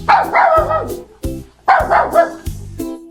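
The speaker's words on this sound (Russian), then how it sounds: "Собака. Пон." A dog barks in two loud bursts, each followed by short thumps, close and clear with no talking.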